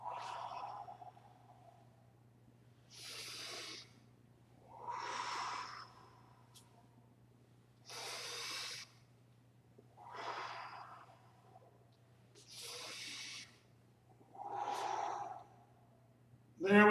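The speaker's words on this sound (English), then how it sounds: "Breathe in, breathe out, up, breathe in" Slow, deliberate breaths during an exercise warm-up, each inhale and exhale a soft airy rush lasting about a second, repeating evenly every couple of seconds close by over a low steady hum.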